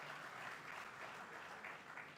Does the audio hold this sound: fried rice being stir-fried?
no